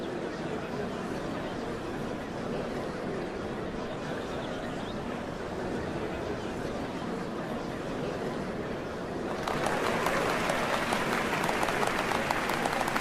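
Crowd in the game Final Fantasy XIV murmuring and applauding, a dense wash of noise that swells into louder clapping partway through.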